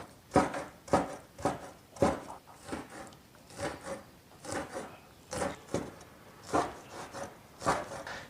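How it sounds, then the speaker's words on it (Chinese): Knife chopping cured pork into small pieces on a wooden board, a steady run of crisp, close thuds and scrapes at an even rhythm, with no one speaking. "腊肉稍有冷却过后来切一下，切成小壳块"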